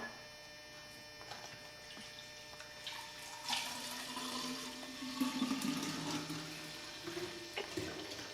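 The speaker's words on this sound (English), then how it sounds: "pour this kombucha tea that's been brewing into my 2 quart or my half gallon glass container" Kombucha tea pours steadily into a half-gallon glass container, a gurgling, rising splash over a low electrical hum, close by with no talking.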